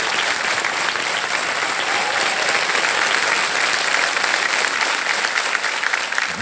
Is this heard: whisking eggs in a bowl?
no